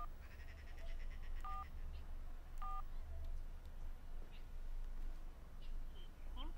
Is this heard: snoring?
no